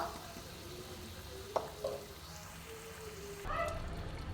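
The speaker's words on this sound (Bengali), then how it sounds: "আর একটুখানি ভেজে নিই" Prawn and green tomato curry frying in a pan, a quiet steady sizzle with a few soft stirring knocks and clinks partway through.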